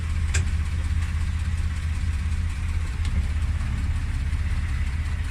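A 1969 Mercedes Unimog sits in neutral with the parking brake on, its engine idling smooth and steady with a deep, even rumble close by and no talking.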